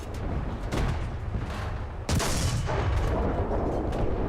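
A tank cannon fires in War Thunder from a Type 3 Chi-Nu, a loud booming shot midway through that rises above continuous rumbling battle noise and engine drone, with a few duller thuds earlier.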